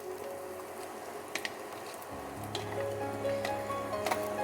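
Long-sliced onions dropped into a hot pan for mixed fried rice, breaking into a steady close sizzle with a few clicks of stirring.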